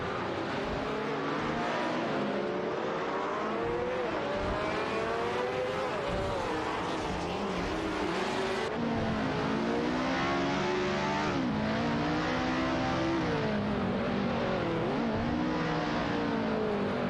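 Engines of race cars in a video game race roar continuously and loudly as they approach a turn, with pitch climbing and dropping through gear changes and several engines overlapping.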